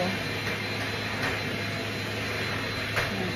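A vacuum cleaner runs steadily as a continuous whirring drone with a constant hum, heard at moderate distance without talk.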